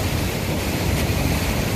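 River water rushes steadily in a constant broadband wash with a low rumble, nearby and unbroken for the whole stretch, with no voices over it.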